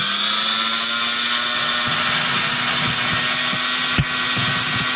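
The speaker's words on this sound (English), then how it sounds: "let's crank up the Dremel and do the same thing" A Dremel rotary tool spins steadily against an old Lionel passenger train car to clean it. It makes a continuous high-pitched whir close by, with a few faint ticks and scrapes from light contact.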